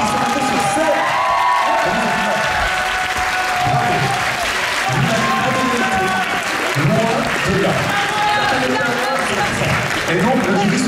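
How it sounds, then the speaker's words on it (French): A hall audience at a cosplay contest prize ceremony gives sustained, dense applause with scattered cheers, and a voice talks over the clapping. "on peut applaudir, cher public, toutes les personnes qui sont montées sur scène"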